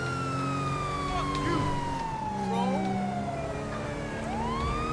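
A police car siren wails continuously as the car drives through a city in a video game, loud and close with sweeping rising and falling tones over engine noise.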